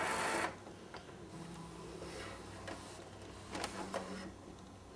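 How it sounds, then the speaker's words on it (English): An Epson Stylus Photo C120 inkjet printer with a continuous ink supply system shuttles its print head toward the resting position, giving a mechanical whir and a few soft clicks and ticks at close range with no talk. "we will wait for the printer head to go in the resting position"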